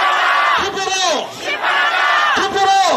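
Rally crowd in Busan roars a clipped slogan in unison, two forceful chants close and loud, separated by a brief lull.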